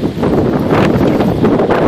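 Strong, steady wind roars during a fast-moving storm in Halifax County, Virginia, a loud continuous buffeting rush with no pauses and no voices.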